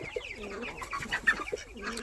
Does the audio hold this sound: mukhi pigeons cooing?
yes